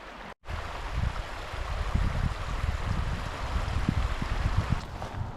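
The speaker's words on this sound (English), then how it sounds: "I can hear the water, right?" Stream running past a wee white house and woods at Dunino, a steady close rush of flowing water mixed with some wind, with no voices.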